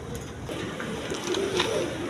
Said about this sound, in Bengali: অনেক রকম বিটের অনেক কবুতর আছে, দেখেন এইখানেও আছে